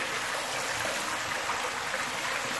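Water flushes out of a water heater tank drain, a continuous even rushing hiss like a small stream, steady and moderately faint with no talking.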